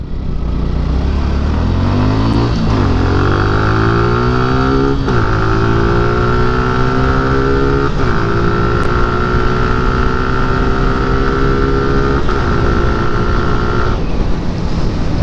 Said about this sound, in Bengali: এই জিক্সার মাউন্টেন বাইকটার 0 থেকে 100 উঠতে কতটুকু সময় নেয়